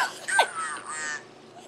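A voice run through a duck effect in a voice changer app, heard as one short, nasal, quacking burst of warped speech that fades out quickly.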